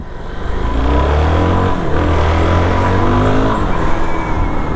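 A Suzuki DR-Z4SM single-cylinder motorcycle engine revs hard and climbs in pitch, a loud, close, continuous roar with a brief dip partway through as the rider shifts, and no talking.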